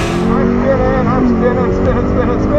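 A Tesla Model S Plaid spins its tires at a drag strip, making a loud, continuous broadband roar that holds for a couple of seconds while people talk excitedly over it.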